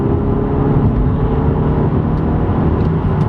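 An Audi A3 TFSI engine pulling hard in second gear toward 6,000 RPM: a loud, steady droning roar heard from inside the car, sustained with no break for the whole stretch.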